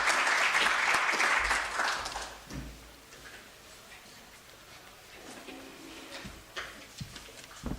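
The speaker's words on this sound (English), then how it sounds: "Can we just give him a warm clap of hands?" An audience at a research and innovation week event claps for a welcome address, a loud dense burst of applause that fades after about two seconds, followed by quiet room noise with a few scattered knocks.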